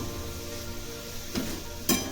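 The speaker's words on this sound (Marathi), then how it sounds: "ही पण छान अशी मिक्स करून घ्यायची भाजीमध्ये" Fried bitter gourd with chopped coriander is stirred in a pan: a soft sizzle runs underneath while two brief spoon scrapes stand out near the end.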